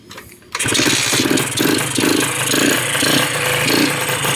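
A Honda NSR150RR two-stroke motorcycle engine with a leaking reed valve sputters to life after a brief quiet moment, then buzzes loudly and steadily with repeated, sluggish revs, close up.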